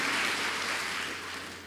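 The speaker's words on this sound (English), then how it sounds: "Let's give Level Dr. Abogo an applause for that moving speech" Audience at a chaplaincy workshop closing ceremony clapping after a speech, a dense, even wash of applause that fades slightly toward the end, with no talking.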